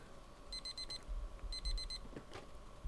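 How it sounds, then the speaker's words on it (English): An alarm clock in the game Deep Pixel Melancholy rings in two quick bursts of rapid, high electronic beeps, followed by a couple of dull thuds. "I smack my alarm clock without looking."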